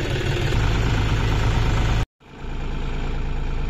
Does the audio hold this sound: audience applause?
no